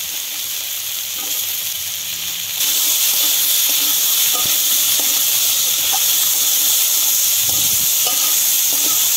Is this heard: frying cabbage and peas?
yes